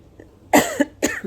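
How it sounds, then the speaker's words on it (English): Two sharp coughs in quick succession, close and fairly loud, with a softer throaty exhale trailing after the second. "I've got a cough"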